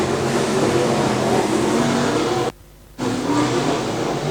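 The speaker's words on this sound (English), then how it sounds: "With all cars able to restart, Brad Ludlow takes the green flag." Pro Mod race cars roar as they accelerate together at a race restart under green, a loud rising engine drone that cuts out for a moment and then returns.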